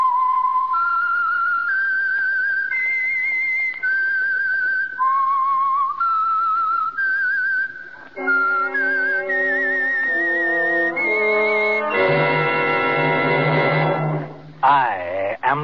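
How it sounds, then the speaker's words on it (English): A melodic whistled tune, clear and prominent, moving through a series of sustained notes before orchestral music swells in near the end, the signature whistle of the 1949 radio drama The Whistler. "the signal to listen for is this whistle"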